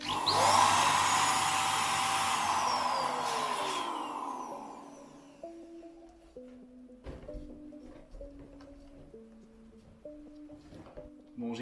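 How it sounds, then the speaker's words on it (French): A loud electric balloon pump motor whines steadily for several seconds, then winds down and stops, leaving quieter tonal beeping or plucked notes. "mais non, je gonfle des ballons."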